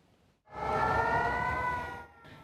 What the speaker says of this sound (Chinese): 警报声又搁咧弹